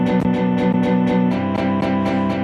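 A guitar part for a vocal track played back in a DAW, strummed in a steady, evenly spaced rhythm of bright repeated chord hits, loud and alone.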